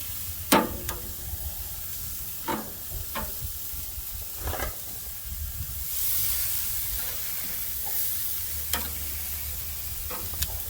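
Carne asada sizzles over real coals with a steady frying hiss, punctuated by scattered sharp pops and clicks of tongs or meat being moved.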